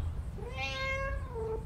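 A single drawn-out cat meow from Five Nights at Freddy's: Into The Pit, rising then falling in pitch, clear and close over a low background hum.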